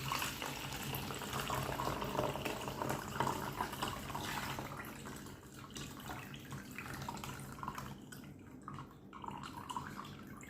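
Carrot water strained through a sieve trickles and drips steadily for several seconds, a soft continuous splashing flow close by, quiet and mostly alone with no clear talk over it.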